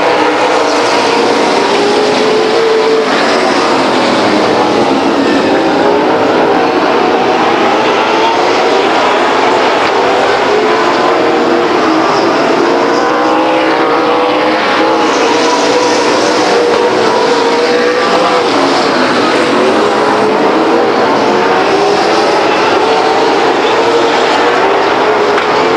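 Loud race cars roar past the grandstands at Stockton 99 Speedway, engines rising and falling in repeated pitch sweeps as they pass close by in a continuous pack.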